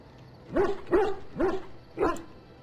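A dog in the Dragon Age: Origins video game barks four times in a steady rhythm, each bark close, loud and clear, with no talk over it.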